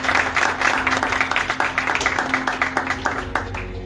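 A church congregation claps their hands together in thanks, a dense, rhythmic burst of many hands that stays loud and even throughout, a faint voice underneath.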